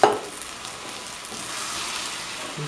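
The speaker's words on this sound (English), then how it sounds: "So we just stir that around, y'all." Two 24-ounce cans of tomato sauce are stirred in a pot for baked spaghetti: one sharp clank at the start, then a soft continuous wet scraping and sloshing, close and unbroken.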